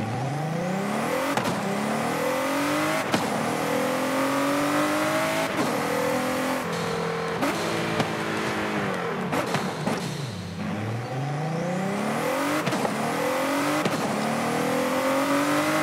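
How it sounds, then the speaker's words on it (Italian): Ford GT supercar of over 900 horsepower accelerating hard through repeated gear changes, each pull rising in pitch with an audible turbo whistle and whoosh between shifts, loud and close with no talking. "Bellissimo sto sound del turbo."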